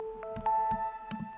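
Lo-fi synth key preset from a free preset pack, sounding sustained tonal notes with soft percussive hits between them, warm and close, alone without talk.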